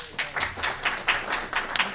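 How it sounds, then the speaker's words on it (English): Applause from an audience at a university COVID-19 and vaccines discussion, heard as a brief, moderate burst of clapping in rhythmic pulses, fairly soft and close, lasting a couple of seconds. "Round of applause"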